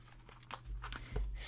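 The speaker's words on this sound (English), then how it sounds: "I'm gonna cut shuffle through one more time, and then I'm gonna cut the deck." A deck of oracle cards is shuffled and cut by hand, giving soft papery riffles and flicks in short bursts close by.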